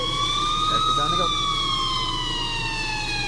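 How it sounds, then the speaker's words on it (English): Police sirens wailing in the distance, a steady rising and falling tone holding over a low rumble of background noise for several seconds, with no talking. "until I finally heard sirens in the distance"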